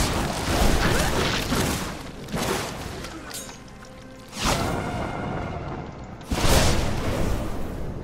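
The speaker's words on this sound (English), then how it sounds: "But that's still a rather large explosion here." Large dark-blue wizard spell explosions from Diablo 3 boom out in several loud bursts, about four heavy blasts with crackling rumble between them and no talking.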